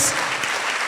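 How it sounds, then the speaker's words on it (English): A brief burst of dense clapping from an audience fills a large hall, steady and fairly loud throughout. "A very big round of applause once again."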